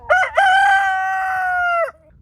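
Rooster crowing once, loud and close, a full drawn-out cock-a-doodle-doo with a brief break near the start, on a farm with no voices.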